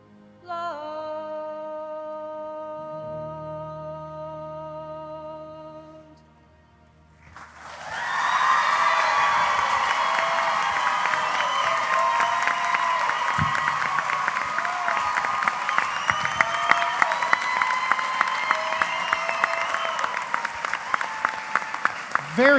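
A crowd at a singing competition bursts into loud applause and cheering right after a song ends, sustained clapping with whoops that keeps building, following a quieter sung passage at the start.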